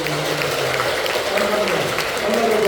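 Applause welcoming a monk at a Buddhist service in a temple hall, a steady patter of clapping from a crowd lasting a few seconds.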